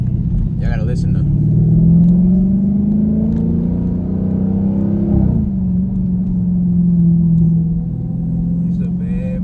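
Dodge Challenger engine rumbling while driving, a loud, steady low drone that rises and falls in pitch as the car accelerates, with brief voices over it.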